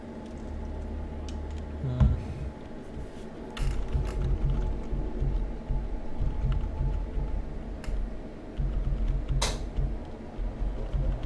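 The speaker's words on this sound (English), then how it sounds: "My air conditioner is loud." A loud room air conditioner drones steadily with a low hum and faint mechanical ticks and creaks that run continuously beneath other quiet sounds.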